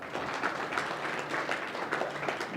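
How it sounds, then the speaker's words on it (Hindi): Applause from a gathering at a Buddhist vihara in Amravati, a soft, steady wash of clapping from many people heard at some distance and fairly quiet throughout. "जोरदार तालियां"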